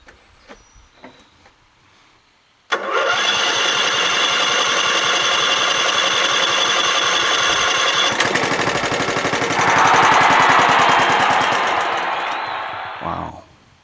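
A Scotts by John Deere lawn tractor with a 16HP Kohler Command engine cranks and fires after a quiet lead-in, then settles into a loud, steady, rattling run that rises slightly before dropping off at the end.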